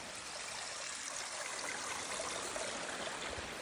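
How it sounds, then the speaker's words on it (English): A brook on a mountain hiking trail near Mt Chocorua, running steadily with a continuous, fairly soft rush and trickle of water, alone and unbroken. "I think we're crossing part of the brook, or at least part of the runoff. You can see it running down there."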